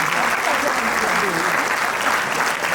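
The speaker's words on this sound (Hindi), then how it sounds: "जोरदार तालियों के साथ ये पहली बात का स्वागत" An audience at a government school mentorship award ceremony applauds loudly and continuously, a dense wash of many hands clapping at once.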